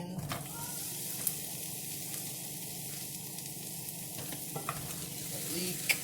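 Chopped onion sizzles in a couple tablespoons of ghee in a hot pan, a steady broadband frying hiss with occasional small pops and crackles as it is stirred.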